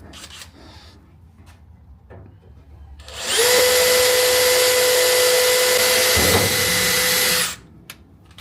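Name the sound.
power drill drilling with a cheap drill bit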